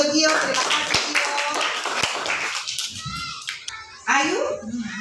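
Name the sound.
class clapping for a student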